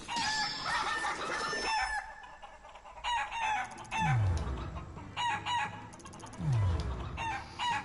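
Chickens in the Shenmue 3 video game cluck busily, and roosters crow twice in long rising calls over a light game background, all close and clear.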